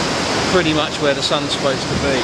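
Ocean waves washing onto a shore at sunrise make a steady, loud roar of surf with rushing wash throughout, while someone speaks over it.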